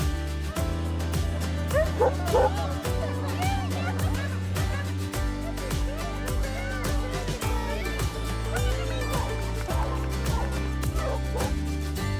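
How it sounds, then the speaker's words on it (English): Many dogs at a large stray-dog sanctuary bark, yip and whine all at once, a dense, nearby chorus of overlapping barks running throughout, with a voice speaking over the din. "Look at the dogs, they're all over the place."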